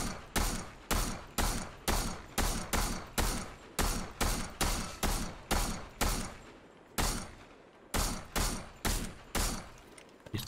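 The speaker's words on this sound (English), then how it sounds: "Somebody shooting him." Rapid gunfire in a Fortnite Zero Build battle royale match comes in loud, evenly spaced bursts, about two a second, with a brief gap near the end and no talk over it.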